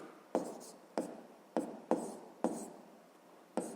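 Pen or chalk strokes write out a maths equation in six short, distinct scratches at an uneven rhythm, close and quiet with no speech.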